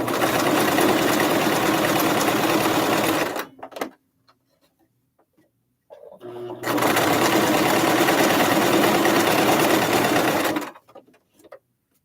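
An electric sewing machine stitching fabric for a tufted pillow runs in two long, steady, loud whirring bursts, separated by a few seconds of near silence with small handling clicks.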